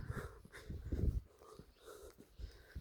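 Close, snuffly pig snorts and grunts come in irregular bursts, with heavy breathing sounds in between.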